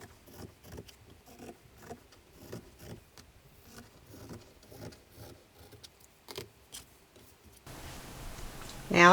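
Fabric headband pieces being cut out with scissors: a quiet, close run of crisp snips and rustles in an irregular rhythm, ending with a louder handling noise.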